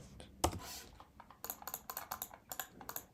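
Keys on a computer keyboard clatter in quick, close bursts of short clicks as a word is typed, quiet overall with a brief pause before the run.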